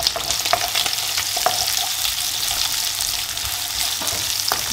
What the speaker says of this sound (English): I've just added a little bit oil to the leftover oil. I'm just adding the onion.